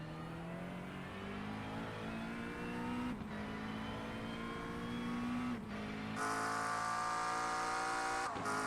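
A racing car engine in an iRacing sim race at Summit Point screams at full throttle, pitch climbing steadily through gears with sharp upshift breaks, loud and continuous, with a brief burst of hiss near the end and no talk.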